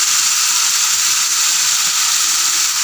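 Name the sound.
fish being added to frying masala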